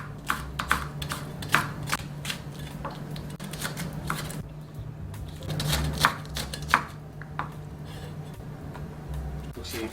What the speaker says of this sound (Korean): 부대찌개는 이렇게 채를 썰어서 넣으면은